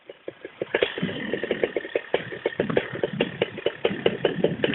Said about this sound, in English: Love the Moster 185, so much power. It runs smoother.